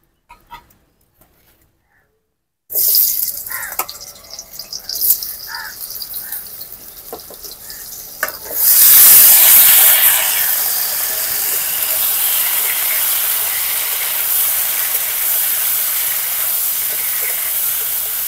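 Potatoes and raw jackfruit frying in hot oil: after a short silence, clattering and rattling of pieces going into the pan give way to a loud, steady sizzling hiss that carries on to the end, with no speech.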